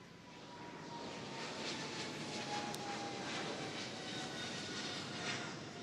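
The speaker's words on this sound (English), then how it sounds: "Here comes the plane." A fixed-wing airplane passes overhead as a faint, steady engine drone. The rushing tone holds evenly for several seconds with no talk.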